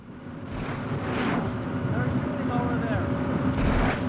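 Gunfire in a street during the Soviet war in Afghanistan, distant booming reports rolling under a constant rumbling background, with a few sharper cracks and voices amid the noise.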